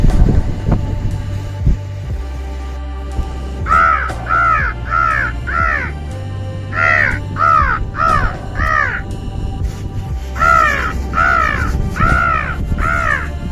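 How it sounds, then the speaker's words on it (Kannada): A crow caws repeatedly at a beach during fishing, bursts of three or four harsh calls in a steady rhythm, close and loud over low rumbling wind noise. "ಮೇಲೆ ನೋಡ್ತಾ ಇರ್ಬೋದು ಒಂದು ಕಾಗೆ ರಂಬ್ಳ ಕೂಗ್ತಿರೋದು ನೋಡಿ"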